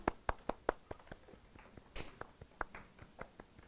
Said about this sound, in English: Let's give Neg a round of applause.